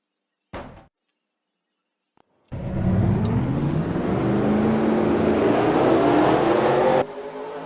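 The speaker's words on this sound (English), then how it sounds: "Drivers, start your engines!" Several race car engines in a racing video game fire up together after a brief thud, then hold a loud, steady layered idle drone before dropping slightly at the end.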